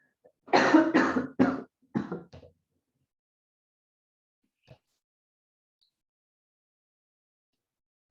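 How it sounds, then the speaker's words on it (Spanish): A short coughing fit: a cluster of harsh, close coughs in quick succession, then near silence broken by a faint single sound and a brief click at the end. "me está dando un ataque de tos."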